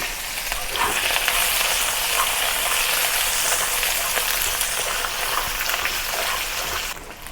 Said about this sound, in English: Return some oil to the wok, and with less oil now, let's continue stir fry the eggplants.